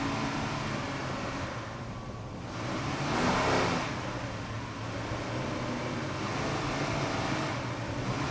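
Twin 500-horsepower Mercury inboard engines on a 38-foot Fountain race boat during a 2002 factory class offshore race, a sustained droning roar with a brief swell in loudness midway, heard steadily from onboard or nearby.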